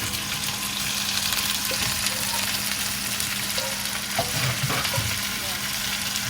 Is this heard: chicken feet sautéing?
yes